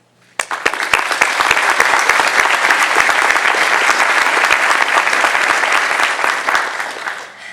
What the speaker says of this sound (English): I'd like to take a second to recognize and thank them with a round of applause.